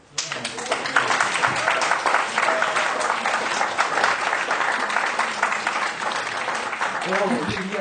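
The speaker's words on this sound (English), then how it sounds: "Let's give him a clap." An audience at a lecture session claps together in a sustained, dense burst of applause lasting several seconds, fairly loud and close, then trailing off.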